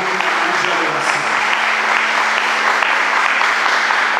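A church congregation breaking into loud, sustained applause, a thick continuous wash of clapping hands held steady throughout with no pauses.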